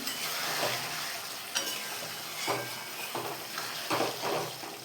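Fish curry spice paste being sautéed and stirred in a pan, a soft sizzle with irregular scraping and stirring strokes of a utensil against the pan, fairly quiet and close.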